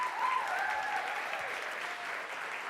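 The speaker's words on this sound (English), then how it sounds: "I think you can clap a little bit bigger than that." A crowd at a charity gala claps steadily at moderate distance, a sustained wash of applause with no voices standing out.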